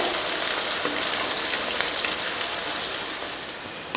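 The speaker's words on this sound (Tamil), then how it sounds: "இதை வதக்கிடலாம். நல்லா கலர் மாறி வரட்டும்." Small onions sautéing in a pan for a Tamil kara kuzhambu, with a steady, even sizzle and crackle throughout and no talk.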